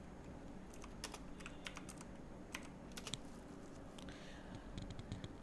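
Quiet, rapid clicks of typing on a computer keyboard come in short bursts with pauses between them, over a soft steady room hiss.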